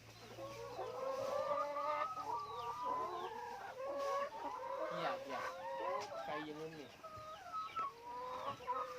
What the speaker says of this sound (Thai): โรงเลี้ยงไก่ พันไข่ดิพี่น้อง